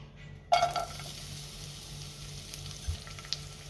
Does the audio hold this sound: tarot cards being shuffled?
no